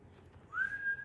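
A person does a breathy dry-air whistle, one faint, airy tone that rises slightly and then holds for about half a second over a quiet background.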